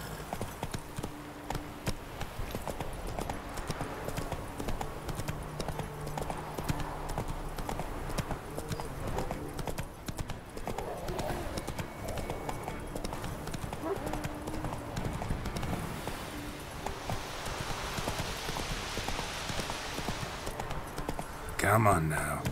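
Roach, the horse in The Witcher 3, trots along with a steady, rhythmic clip-clop of hooves that carries on throughout, mixed with other game sounds and a snort near the end.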